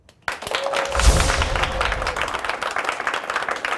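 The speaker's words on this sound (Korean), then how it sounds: "지금 박수 아주 세게 치신 분들이" Audience bursting into loud, hard applause at a Korean management-philosophy talk, starting abruptly after a brief silence and sustained as a dense, close wash of clapping with heavy thumps.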